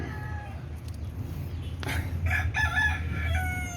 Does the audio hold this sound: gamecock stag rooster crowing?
yes